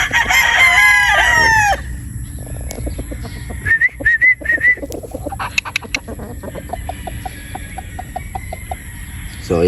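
A gamefowl rooster, a bulik crossed with Sweater Boston, crows loudly and close at the start, followed by shorter crows and clucking over scattered farmyard knocks and chatter from other birds.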